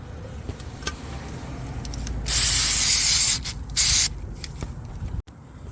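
Two bursts of aerosol cleaner spray hiss loudly onto a 2004-2008 Nissan Maxima mass airflow sensor, a long one followed by a shorter one, amid quiet handling noises.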